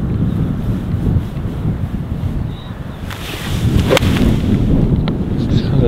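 Strong wind buffets the microphone on the Minehead golf course, a steady loud rumbling roar that swells and eases throughout, with faint sounds in the background.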